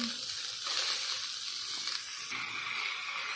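Steady, loud sizzling and hissing as wet chopped amaranth greens hit a hot pan, a continuous frying crackle with no talking.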